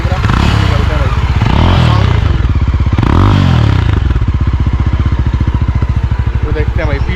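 A Yezdi Roadster motorcycle, a 2025 model, accelerates hard with a loud, continuous engine roar whose pitch sweeps up through the gears, the rider's voice running beneath it throughout.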